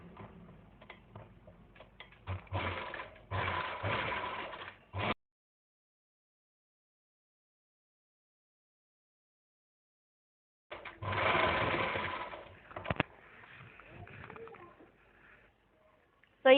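Sewing machine stitching a seam down palazzo pants to the hem, running in two bursts of fast rhythmic mechanical chatter separated by a long silent gap, close and moderately loud, with sharp clicks at the ends.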